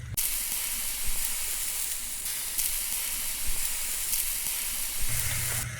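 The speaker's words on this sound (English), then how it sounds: "So add a little bit more olive oil to the pan and then add 1 pound of ground beef" A pound of ground beef fries in olive oil in a pan, giving a steady, close sizzle with a constant bright hiss and a few faint knocks for nearly six seconds, with no talking.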